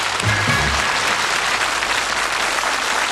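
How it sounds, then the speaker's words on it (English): A studio audience on a darts game show applauds in a steady, full wash of clapping, with a brief voice speaking at the start before the applause carries on alone. "One round of applause"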